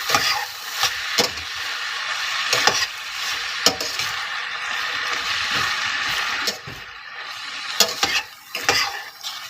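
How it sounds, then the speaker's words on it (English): A spoon stirs a pot of smoky chipotle chili, scraping and knocking against the pot in repeated close strokes over a continuous sizzle, with a short quieter stretch before the stirring picks up again. "And give that a stir."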